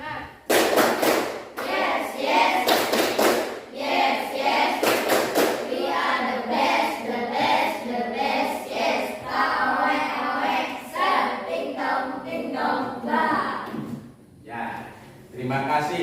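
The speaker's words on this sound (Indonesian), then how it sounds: "coba kita tepuk semangat dulu" A class of sixth-grade primary school pupils claps in quick rhythmic bursts, mixed with chanting voices, following a patterned clap-and-call routine with brief pauses.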